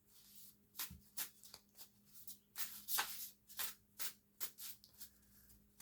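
A Galactic Command tarot deck is shuffled by hand: quiet, close riffling and card-slapping bursts come in an uneven rhythm with no talk over them.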